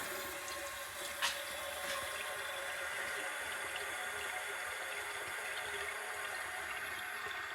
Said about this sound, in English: Now I'll show you guys a flush on an overfilled tank and holding the handle down.